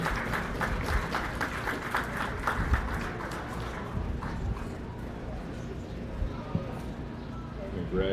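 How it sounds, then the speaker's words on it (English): Applause from the audience at a county fair goat show, greeting the champion dairy goat doe; steady clapping fills the clip with a loudspeaker voice talking over it. "Give her a great big round of applause"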